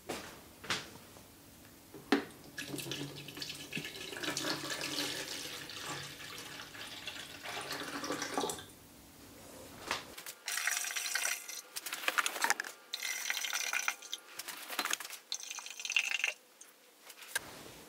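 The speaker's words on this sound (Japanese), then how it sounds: "ではまずはこちらのじょうろに水を 2000ml 加えます。 こちらの 500ml のペットボトルで測ります。" Water runs and splashes from a 500 ml PET bottle into a garden watering can, pouring in steady stretches broken by short pauses, clinks and sharper splashes, close and fairly loud.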